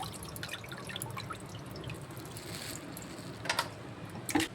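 Raw quail being rinsed in water for a South Indian quail 65 roast, with a steady watery wash of splashing and a few sharper drips and sloshes near the end; no one speaks.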